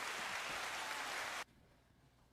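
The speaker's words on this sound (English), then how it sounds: "let's have a round of applause for Dave as he goes" A crowd applauds for Dave, steady dense clapping that holds evenly for over a second and then cuts off abruptly, leaving quiet room tone.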